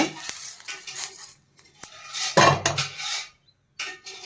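Small roasted cumin seeds rattle and scrape onto a metal plate in a short burst, amid light kitchen clinks and utensil taps, close by and without speech.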